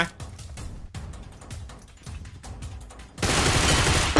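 Bursts of rapid gunfire in PUBG Mobile repeat in a steady rhythm, ending in a sustained loud roar of noise.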